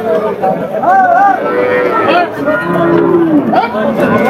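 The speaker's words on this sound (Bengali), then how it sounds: "দেখতে পাচ্ছেন এই দিকে একটা গাভী সাথে বাছুর" A cow and her female calf moo repeatedly, the cow's low calls mixed with higher calf bleats, close by over a busy hum with distant chatter at the Chaugachha cattle market in Jessore, Bangladesh.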